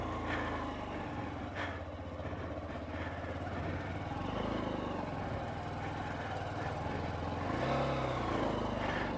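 Honda CB125F motorcycle with a 120cc fuel-injected engine being ridden, a steady mid-pitched engine drone that rises and falls as the throttle changes, recorded close from the rider's position.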